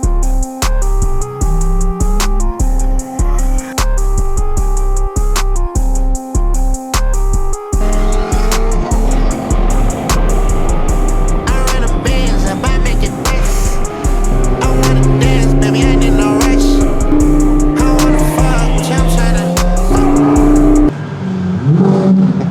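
Turbocharged car engine revving hard and accelerating, loud and close, with repeated throttle blips and rising pulls, some tire squeal and skidding mixed in, ending in a sudden cutoff.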